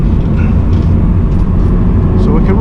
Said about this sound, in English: Down to second here.